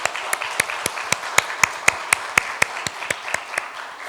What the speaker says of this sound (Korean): 수고해 준 분들에게 감사의 박수를 한번 하겠습니다